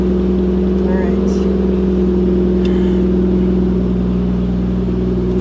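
A supercharged Toyota 1JZ VVTi engine held at wide open throttle, a loud, steady droning roar that stays close and constant with no letup, while someone speaks over it.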